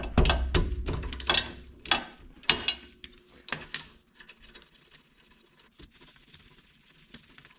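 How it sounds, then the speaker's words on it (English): A ratchet clicks in quick bursts loosening 14 mm brake bolts on a 2021 Subaru Crosstrek, sharp close metallic clatter for a few seconds that fades to faint occasional ticks. "So now we gotta take the bolts off the brake. And these are 14 millimeter."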